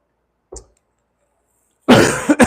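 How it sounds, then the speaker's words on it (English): A short, faint cough, a pause of silence, then a louder, rougher burst of coughing close to the microphone. "Just coughed into the mic there."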